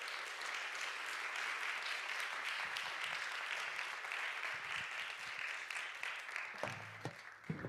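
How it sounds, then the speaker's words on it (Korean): A church congregation at a youth Sunday service applauds together, a dense, sustained wash of many hands clapping in a large hall, steady throughout with a few sharper claps as it trails off. "하나님께 영광의 박수 올려드리도록 하겠습니다"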